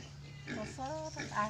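Pigs on a small farm in Assam give brief, soft grunts under a person talking nearby; the sounds are faint and short.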